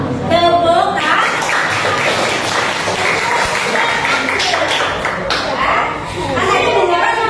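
Students applaud at the close of a classroom session, a loud, dense burst of many hands clapping that dips briefly near the end, mixed with voices and some laughter.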